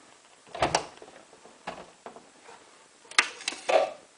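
Door lock on a Hotpoint WT960 washing machine works in a series of short mechanical clicks and clunks, several separate knocks spaced irregularly, close and fairly quiet between sounds.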